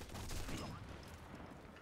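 A single sniper rifle shot in Sniper Elite 4, a faint, muffled crack with a short rumbling tail.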